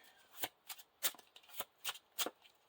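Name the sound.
shuffling a discard pile of cards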